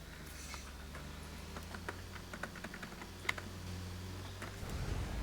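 Rapid typing on a membrane computer keyboard while playing Roblox, pressed hard with uneven bursts of soft clacks, close and steady over a low background hum.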